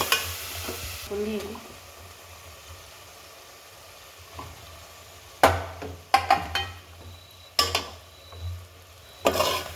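A spoon stirs an egg biryani mixture in a pan over a faint background sizzle. The scrapes come as a few sharp, close strokes spaced across the second half.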